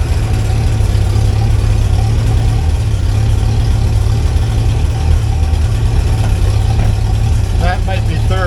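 A 1963 Hillman Super Minx running in gear on a drive, its engine a loud, steady low drone heard from inside the car, with people talking over it.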